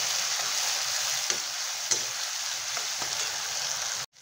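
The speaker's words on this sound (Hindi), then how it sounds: "टमाटर को अभी हम प्याज के साथ पका लेते हैं" Chopped tomato frying alongside browned onion and green chili gives a steady close sizzle, with a few soft stirring clinks, before the sound cuts off abruptly at the end.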